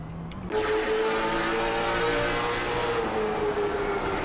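Race cars on a short oval track in the iRacing simulator at Langley Speedway, heard as a loud, continuous engine drone with steady, overlapping engine tones that start after a brief quieter moment, no voices.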